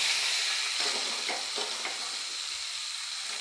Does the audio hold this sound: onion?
yes